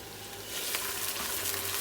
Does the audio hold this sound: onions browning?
yes